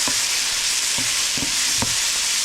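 Shrimp with shiitake and oyster mushrooms stir-frying in a skillet, a steady close sizzle broken by four short scraping stirs of the spatula at an even pace.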